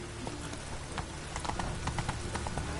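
Hooves of the horse Roach beat a galloping clip-clop across open ground in The Witcher 3 video game, a quick repeating rhythm, moderately close and fairly quiet with no talk.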